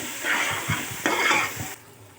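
A spoon stirs Nellore chappal pulusu fish curry with oil and chili powder in a pan, making a few quick scraping strokes over a soft fry that cut off abruptly near the end, with no voices.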